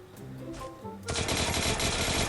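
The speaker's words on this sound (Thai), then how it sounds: "โอ้มันยิงกันใหญ่เลยทุกคน" Rapid automatic gunfire in the shooting game Free Fire bursts in loud and dense partway through, following a short stretch of quieter game sounds and continuing steadily to the end.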